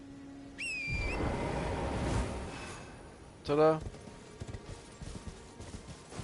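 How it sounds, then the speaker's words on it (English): In the video game Elden Ring, a horse is summoned with a whistle and a magical shimmer, followed by a burst of hoof clatter as it is mounted and ridden, with a voice speaking briefly. "Now anytime you want to summon your horse, hold triangle, tap up."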